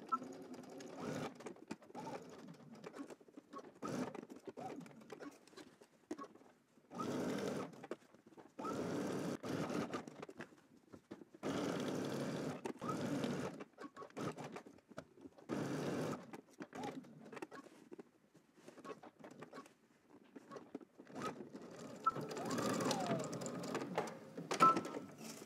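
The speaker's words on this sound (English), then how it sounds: "let's head to the machine and stitch all of this together" Sewing machine stitching garment fabric pieces together, running in repeated bursts of steady whirring separated by short pauses, close up with no talking.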